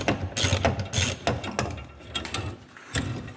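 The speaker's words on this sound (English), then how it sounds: "Let's undo these two bolts here and here" A ratchet wrench undoing bolts on a van's gas tank, a rapid run of close metallic clicking ratchet strokes in quick bursts, with brief pauses between turns.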